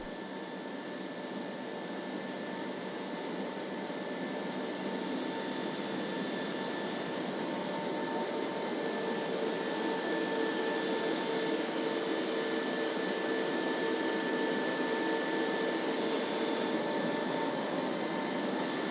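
A steady, loud broadband roar fills the cabin of a military transport aircraft in flight, with a constant droning hum and faint tonal whines throughout and no voices.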